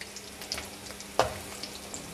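Chicken legs coated in rice flour deep fry in hot oil with a steady, close crackling sizzle and one sharper spatter partway through, with no talking.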